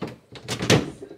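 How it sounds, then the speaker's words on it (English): An old cupboard door with decorative hinges swings shut with a quick series of close, woody knocks and clunks, finishing in a firm thud. "The doors all close."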